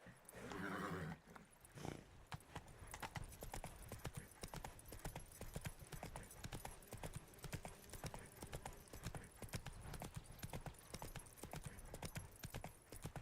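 A horse's hooves clip-clop at a steady riding pace in The Witcher 3 video game, a fast, even rhythm of hoofbeats continuing throughout with no speech over them.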